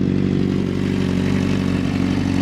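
A 2006 Honda CBR600RR motorcycle idles up close with a steady, even engine drone and a faint mechanical clatter from the crankcase, running alone with no voices.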